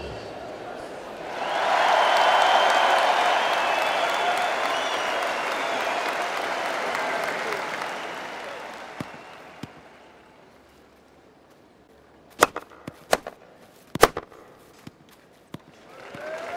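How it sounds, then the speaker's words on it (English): A crowd bursts into applause that swells, holds for several seconds, then dies away, followed by a few sharp thuds and quiet, in the tennis video game Top Spin 2 on Xbox 360. "Please give the players a round of applause."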